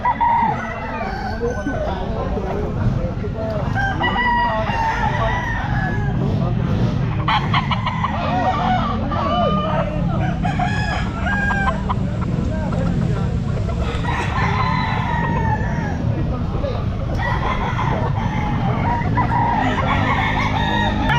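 Roosters and gamefowl crow and cluck continuously at the Mt. Banahaw Grotto pet market, with many overlapping calls near and far forming a dense, loud din, and voices talking underneath.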